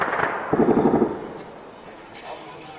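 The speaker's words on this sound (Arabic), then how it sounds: "كل حواجز الجيش تقوم بإطلاق الرصاص عشوائيا." Sharp reports and a rattling burst of gunfire ring out at a distance in Zabadani, from army checkpoints shooting at random. A loud crack comes first, then a dense volley, fading into a faint echoing tail.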